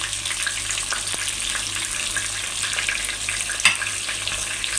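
Onions fry in a pan with black pepper and turmeric as they are stirred, giving a steady close sizzle with light scraping and one brief clatter near the end.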